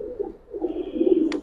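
Giribaz pigeons, silver bagha and green-necked birds, coo close by in a soft, continuous, low burbling throb that swells briefly, with no talking.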